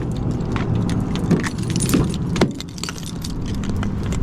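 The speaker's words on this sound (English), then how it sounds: "The keys don't work in the door." Car keys jangle and scrape in the door lock of a car towed into an auto repair shop as a no-start, a steady close metallic rattle with a few sharper clicks, no talk.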